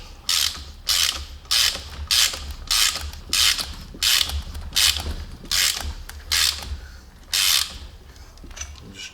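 A thread repair tap being backed out of a Ford 4.6L cylinder head gives a series of about ten sharp, rhythmic ratcheting clicks, close and fairly loud, with no talk over them.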